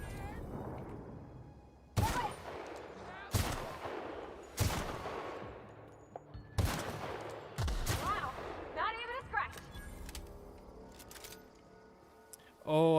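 Plasma-modded SMG fire in The Outer Worlds: several sharp bursts at roughly one-to-two-second intervals, loud and close, trailing into quieter game ambience, then a final loud burst at the end.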